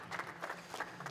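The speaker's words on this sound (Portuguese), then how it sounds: "Uma salva de palmas, por favor." A conference audience applauds panel speakers taking the stage at a discussion on globalising domestic football leagues, a short steady patter of clapping at moderate level.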